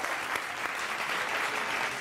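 A crowd at a live Hindi poetry and political comedy show claps in a brief, thick burst of applause that stays even and loud throughout.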